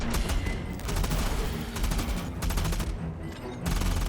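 Heavy rifle firing in the video game Aliens: Fireteam Elite 2, loud rapid bursts of automatic gunfire in several close volleys separated by brief pauses.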